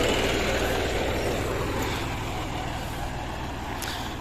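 A John Deere 5105 4x4 tractor hauling a trolley uphill, its diesel engine droning loud and close in a dense, steady rumble that eases slightly toward the end.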